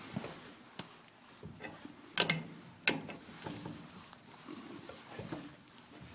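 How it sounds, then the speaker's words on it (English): Two adjustable wrenches work a gas range hose adapter tight on the pipe fitting, giving soft metallic clicks and scrapes in irregular, close, fairly quiet bursts. "to tighten it up, I'm going to go ahead and use 2 adjustable wrenches"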